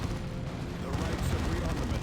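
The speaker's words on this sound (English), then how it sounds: "Twin Linked Assault Cannon doing loads of damage." A twin-linked assault cannon in the Dawn of War 2 video game fires in a sustained, dense rattle amid battle noise, with continuous thudding blasts and chaotic combat sounds filling the mix.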